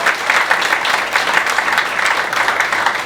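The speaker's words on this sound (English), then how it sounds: "Please a round of applause to them again" Steady applause from an audience at a community issues panel session on neighborhood development, moderately loud, even clapping with no voices over it.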